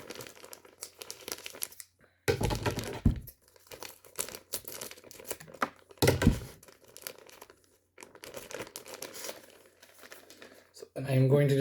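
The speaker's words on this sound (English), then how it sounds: "Next up is a 1/4 cup of brown sugar, which I have to open the brown sugar" A bag of brown sugar is cut and torn open by hand in a kitchen, giving several bursts of crinkling and ripping plastic between quieter handling, with some talk.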